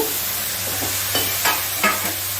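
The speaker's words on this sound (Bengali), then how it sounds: "মশলার সঙ্গে বেশ ভালো করে নাড়িয়ে চাড়িয়ে দেব" Dried cabbage being stirred with spices in a cooking pan, a steady sizzle under a few distinct scraping strokes of the spoon, close and fairly loud with no talking.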